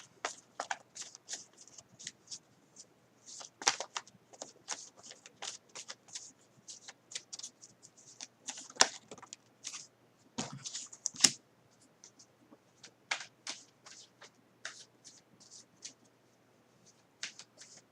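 Tarot cards are shuffled and handled close up, with soft riffling and irregular flicking and snapping of cards over a long stretch, no talking.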